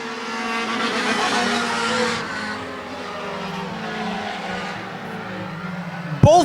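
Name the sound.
race cars drifting sideways through turn, tires squealing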